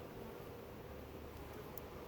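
A large honey bee swarm hums as a steady, low, even buzz that holds throughout, quiet and close, with no voices over it.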